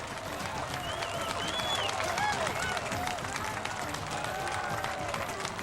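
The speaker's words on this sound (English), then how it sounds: "Huge crowds out there today, and they were going wild." Golf tournament gallery at the 2009 Buick Open cheering and applauding a Tiger Woods eagle, sustained clapping and whoops from a large crowd some distance off, steady and fairly dense with a commentator's voice over it.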